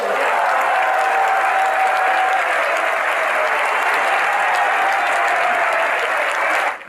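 A large audience at a Hindu religious sermon claps in sustained, uniform applause for several seconds, loud and close, ending abruptly.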